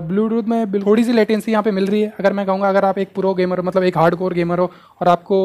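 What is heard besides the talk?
None of the usual background noises is heard.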